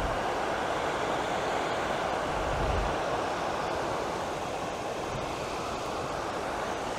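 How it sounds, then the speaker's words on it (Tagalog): Heavy water falling from the San Roque Dam release into the river below, heard as a steady, continuous broadband roar that stays loud and even throughout, with no voices. "Dito bumabagsak yung tubig."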